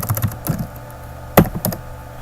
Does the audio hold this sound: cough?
no